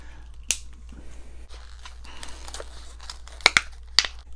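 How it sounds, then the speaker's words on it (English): A Milwaukee Fastback box cutter knife slices open a cardboard box, with quiet scraping and several sharp, close snaps and taps. "I'm going to be using my Milwaukee Fastback box cutter knife right here"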